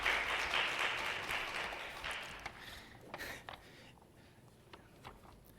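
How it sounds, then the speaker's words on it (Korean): Applause from a congregation at a university chapel service, a full burst of clapping that thins and fades away, leaving a few scattered claps and taps. "예배 때 박수를 받기가 참 어려운데 역시 채플이어서 조금 자유롭습니다"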